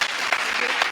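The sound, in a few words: audience applause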